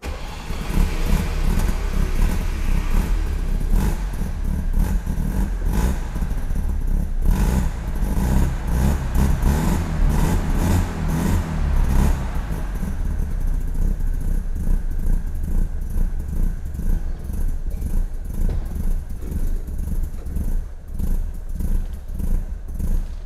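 NSU Ro 80 with a Wankel rotary engine starting and running, a loud continuous rotary drone with uneven revving pulses throughout, close to the car, no talk.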